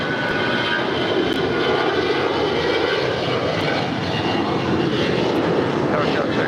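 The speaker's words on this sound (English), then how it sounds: "That is Alaska Airlines 113 departing to Seattle on an A320" Alaska Airlines Airbus A320 departing LAX for Seattle: a steady, loud jet engine roar with broadband rush and a faint high whine, holding constant throughout the takeoff run.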